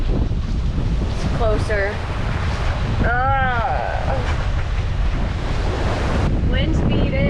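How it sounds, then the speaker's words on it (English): Strong wind roars across the microphone with steady wash of waves against a sailboat heading into a 22-knot headwind near Daniels Bay in the Marquesas; loud and continuous, with a brief spoken remark and some tonal creaks or whistles. "Wind speed is 22 knots, straight down our bow"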